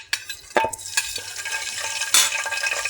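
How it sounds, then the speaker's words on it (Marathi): Curry leaves crackle and sizzle as they hit hot oil and ghee for a tempering, with a few sharp bursts and stirring scrapes over a steady frying hiss, close and fairly loud. "त्याच्यामध्ये कढीपत्त्याची फोडणी करूया"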